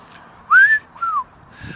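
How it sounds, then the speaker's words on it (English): A person whistling two short, clear rising-and-falling notes close up, then starting a third as the sound cuts off, with quiet surroundings between them. "Whistling, yeah, that's what I'm talking about."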